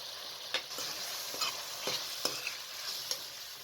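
Pumpkin pieces stir-fry in a spiced tomato and pea masala, a steady close sizzle broken by several sharp scrapes of a spoon against the pan.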